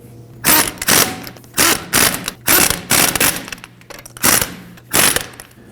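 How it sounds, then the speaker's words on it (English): Ratchet with a 21 mm socket snugging down lug bolts on a 2009-2014 Ford F-150 steering knuckle job, heard as repeated close, loud clicking bursts in a steady rhythm, about seven strokes with brief pauses between. "We'll go ahead and snug those down in a crisscross pattern with a 21 millimeter."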